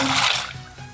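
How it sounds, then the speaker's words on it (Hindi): A cup of macaroni poured into a pot of boiling water, a short bright splash and hiss of liquid that quickly settles into a softer bubbling, close by. "ये मैंने पानी बॉयल करने के लिए रख दिया था। 1 कप मैं इसमें मैक्रोनी शामिल कर रही हूँ"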